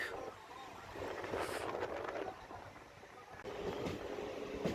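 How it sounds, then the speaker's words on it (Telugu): A MEMU passenger train rolls along after pulling out of Yadadri station, a steady rumble of wheels and carriage noise with wind buffeting the microphone throughout. "యాదాద్రి రైల్వే స్టేషన్ నుంచి వెళ్తే ట్రైన్ స్టార్ట్ అయింది మళ్ళా"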